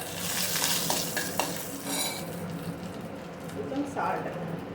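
Mustard seeds and mint going into hot oil in a pan, with a steady close sizzle and stirring scrapes, a few utensil clinks, and background voice audible at times.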